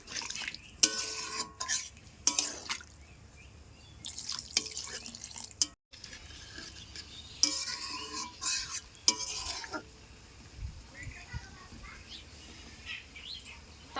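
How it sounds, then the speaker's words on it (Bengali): Meat cooked village-style with green chilies is stirred and fried over a medium flame in a pot, with intermittent close scraping and sizzling strokes between quieter stretches and faint birdsong in the background. "উনুনের আঁচটা মাঝারি রেখে ভালো মতো মাংসটা কষায় নিচ্ছি"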